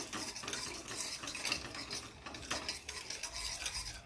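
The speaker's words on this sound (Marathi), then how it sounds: "साखर विरघळण्यासाठी थोडंसं ढवळत राहा" Soft, continuous stirring of a milk and sugar mixture in a pot, a faint swishing and scraping with a low background hum, quiet and close.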